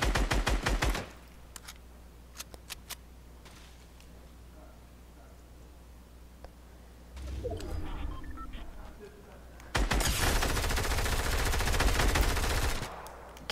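Gunfire in the video game Fortnite: a quick burst of shots opens, then scattered single shots, and a loud sustained stretch of rapid automatic fire near the end, with quieter game sounds between.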